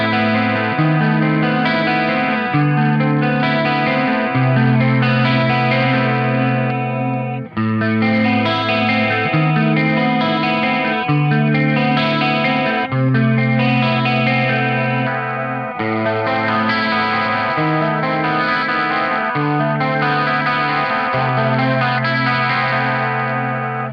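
Clean Chapman Pro Series electric guitar on the neck pickup with a shimmering chorus effect plays a repeating chord pattern, warm and sustained, looping over about twenty seconds with no talking.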